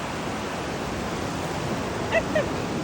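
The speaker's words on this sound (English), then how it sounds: "the tide is coming in" Ocean surf washes steadily onto a beach as the tide comes in, a broad, even roar of breaking waves that stays close and constant, with a couple of brief faint chirps near the end.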